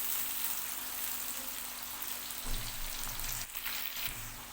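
Onions sizzle and crackle steadily in a hot pan while frying for keema, with a soft stirring scrape partway through.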